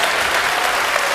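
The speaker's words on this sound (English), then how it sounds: "go ahead, you can applaud." Dense crowd applause at a climate forum, a loud continuous wash of many hands clapping for about a second.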